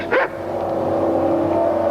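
A dog on a television drama set lets out a single short, sharp yip near the start. A low, steady hum runs underneath for the rest of the moment.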